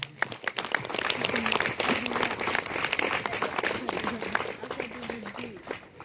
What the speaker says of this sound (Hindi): ओके, ताली।